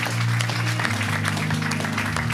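An audience at a worship gathering bursts into loud, dense applause and cheering for Jesus, a steady wash of clapping over a sustained low musical drone.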